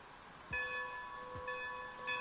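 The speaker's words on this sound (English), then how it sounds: "This is your bell." A steam locomotive's bell in the video game Red Dead Redemption 2 rings in a slow, even rhythm, each clang ringing on with bright overtones, moderately loud and with no other sound over it.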